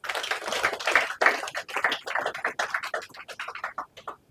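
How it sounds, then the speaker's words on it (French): A small audience at an investiture ceremony for the Kinshasa provincial council of midwives applauds a man, giving a brief burst of close, uneven clapping that thins out over about four seconds. "Nous pouvons applaudir pour lui."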